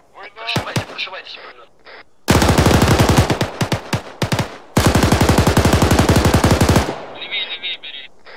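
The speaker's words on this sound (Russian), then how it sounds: "Стрельба! Война! Прошивайте, прошивайте." Sustained automatic machine gun fire in the video game ARMA 3, set in a forest, comes in two long, loud rapid bursts after scattered shots, with players talking over the gunfire.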